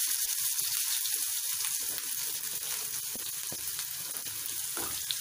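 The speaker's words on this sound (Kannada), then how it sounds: "ಈರುಳ್ಳಿ ಎಲ್ಲ ಸ್ವಲ್ಪ ಸಾಫ್ಟ್ ಆಗೋವರೆಗೂ ಚೆನ್ನಾಗಿ ಫ್ರೈ ಮಾಡ್ಕೊಳ್ಳೋಣ." Finely chopped onion and green chilli frying in a pan, a dense hiss of sizzling oil with scattered stirring clicks, close and alone.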